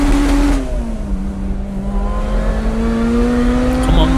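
A supercharged Honda CRX's K20 VTEC engine, about 400 bhp, revs hard in second gear, pitch climbing steadily after a brief dip, loud and close with a sustained mechanical roar.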